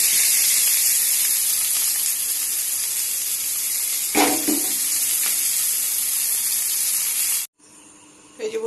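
Grated ginger and chopped onion sizzle loudly in hot oil, a dense steady frying hiss close up with a brief stir clatter midway, then the sizzle cuts off abruptly near the end.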